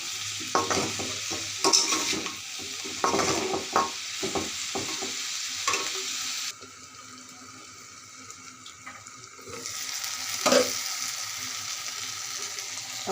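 Green tomato and beans with garlic and ginger paste are stir-fried in a pan, producing close scraping stirs and a soft sizzle, quieter midway and then resuming, with no talking.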